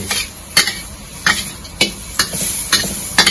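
Mushrooms stir-frying with soy sauce in a pan for a vegetarian Lo Hon Jai, a steady sizzle broken by several sharp scrapes and clinks of a spatula stirring against the pan, close and fairly loud.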